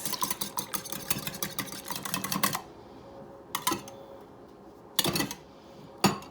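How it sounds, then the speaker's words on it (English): Eggs whisked in a bowl: a fast, dense run of light clicking strokes, then a pause and a few short separate bursts of whisking, close by. "I'm just going to start whisking my eggs"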